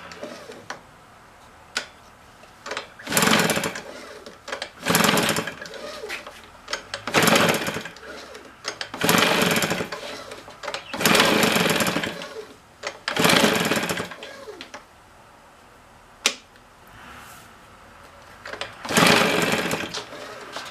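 Husqvarna 150BT backpack blower two-stroke engine, fitted with a new piston and cylinder, running in repeated loud bursts of full throttle separated by quieter idle, close by and alone.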